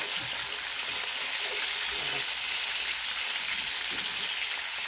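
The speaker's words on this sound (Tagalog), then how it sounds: "ipiprito ko po muna siya bago ko siya gagataan" Tilapia frying in hot oil in a pan, a steady dense crackling sizzle, close and continuous, with no talk.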